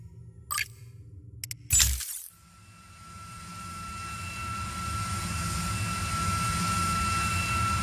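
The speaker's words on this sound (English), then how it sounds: "Helicopter inbound. Heading to AO." In the video game Just Cause 4, a helicopter approaches after a few sharp crashing impacts, its engine drone swelling steadily louder and holding a constant whine.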